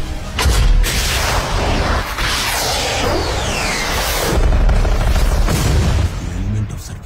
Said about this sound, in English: I have a missile lock. Engaging now.